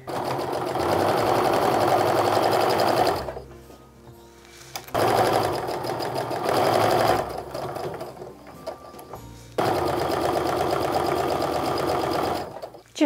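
A sewing machine stitches fabric patches for a charm-pack Christmas stocking, running in three steady, fairly loud bursts of several seconds each, separated by short quiet pauses.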